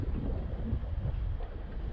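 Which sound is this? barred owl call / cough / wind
wind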